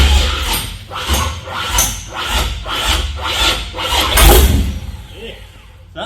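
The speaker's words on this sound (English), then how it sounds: "Right, we've got ignition." A one-tonne truck's engine is cranked with a rhythmic, chugging cranking pulse before it rumbles into life, loud and close, while people talk over it.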